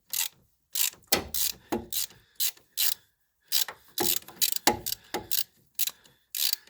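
Ratchet wrench clicking as it backs out a stubborn bolt, a run of loud, close bursts of ratcheting with short pauses between strokes.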